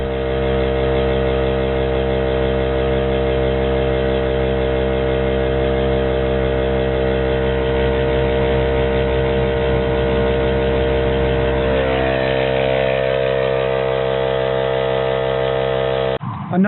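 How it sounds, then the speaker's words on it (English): A Harbor Freight air compressor runs steadily for about sixteen seconds, reinflating an off-road Toyota RAV4's tires to 35 PSI, a continuous loud motor drone with a slight shift in tone partway through before it cuts off. "The compressor that I'm using, the Harbor Freight compressor that I'm using"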